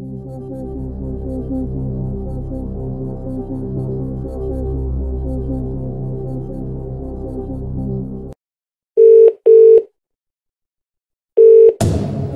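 During a phone-a-friend lifeline in a Who Wants to Be a Millionaire DVD game, a low sustained tone gives way to silence, then short electronic beeps and a ringing tone, loud and close.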